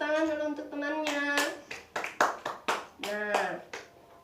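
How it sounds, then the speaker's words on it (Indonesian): Children in a classroom clap for a classmate after a poem recitation, roughly eight sharp, separate claps in a loose rhythm, close and clear, with a voice speaking just before and briefly in between. "Tepuk tangan dulu untuk temannya."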